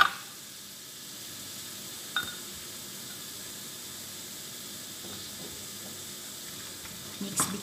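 Frozen mixed vegetables sizzling in a pan for a shrimp stir fry: a steady soft hiss of frying with faint crackles, a few louder pops and scrapes near the start and end, close and moderate.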